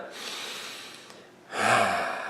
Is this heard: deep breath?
yes